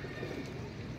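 Pigeons cooing on a high rooftop, a low continuous burbling murmur that fills the whole second, fairly close and steady with no talk over it.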